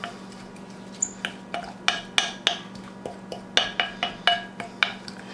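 Spoon clinking against a dish while mixing persillade sauce with sea salt and ground black pepper, giving a steady series of close, sharp taps and scrapes at an uneven rhythm over a low hum.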